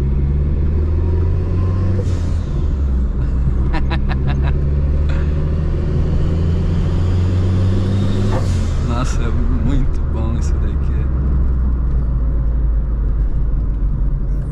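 A Chevrolet Corsa 1.6 turbo with a swapped gearbox drives along with a loud, constant engine drone and rumble inside the cabin, along with scattered clicks and rattles.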